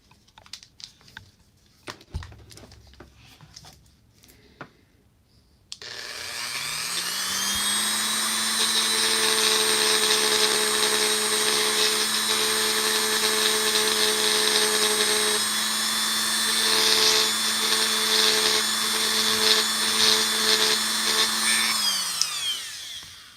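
After a few light clicks and taps, a power sander starts up and whines steadily and loudly for a long stretch before winding down, sanding a custom Beastman action figure.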